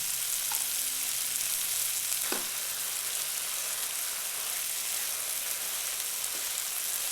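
Chicken korma with yogurt sizzles steadily in a pan while being stirred, a continuous frying hiss with a few soft scrapes of the spoon and no talking.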